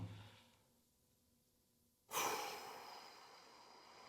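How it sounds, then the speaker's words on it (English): A deep, slow exhale through the mouth during a gentle vinyasa yoga session: a soft breath that fades, a quiet pause, then a louder, longer airy exhale, close to the microphone. "Let's start with a couple of deep exhales through the mouth."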